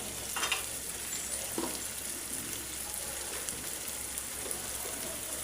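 Onions with ginger and garlic paste and spices frying in a pan for a Bengali egg bhuna, a steady close sizzle and crackle with a few brief stirring scrapes, no voices.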